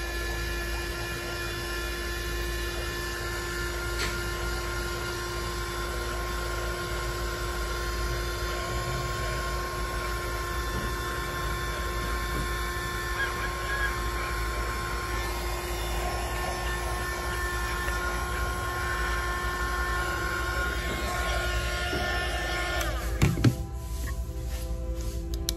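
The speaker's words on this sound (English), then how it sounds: "now we have our heat gun, our decals on there. We're going to quickly heat this up, starting at one end and work our way around" A heat gun blows a steady, even whir and hum, without a break, while warming HTV decals on a glitter tumbler, with a brief clatter near the end.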